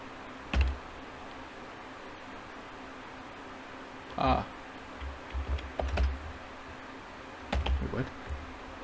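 Someone types a password on a computer keyboard, sending out a few scattered bursts of soft key taps with pauses between them, quiet and close over a steady background hiss.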